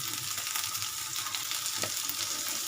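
Steady, dense sizzle of frying in a pan after a pinch of turmeric goes in, continuous and close, with a few soft stirring scrapes.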